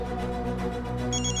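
A mobile phone rings with an incoming call in a Hindi TV drama scene, a steady electronic ringtone running throughout over a constant background bed, with brighter chiming notes toward the end.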